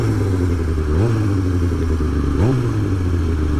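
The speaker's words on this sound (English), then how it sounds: "making some loud pops, which sound really good when you get up in high gear and then give it some gas" A 2005 Kawasaki ZX6R Ninja 636 with a modified exhaust drones steadily and close, its engine note swooping up twice as the throttle is blipped, with crackly popping texture throughout and no voices.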